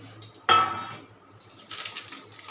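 Chopped onion and green chilli for chicken fulori are stirred in a pot, a sharp metallic clank of utensil on pot followed by quieter scraping and clinking, close and unaccompanied by talk.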